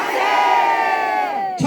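Supporters at a district mayoral candidate's outdoor press conference shout a single sustained, loud group cheer of "manse" in unison, held for over a second before a fresh burst of voices cuts in at the end.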